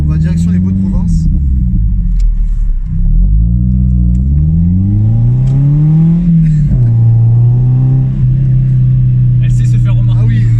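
A Toyota MR2 fitted with a stainless steel exhaust line drives along a road, its engine droning loudly and steadily from inside the car, with pitch rising and falling through gear changes while people talk over it.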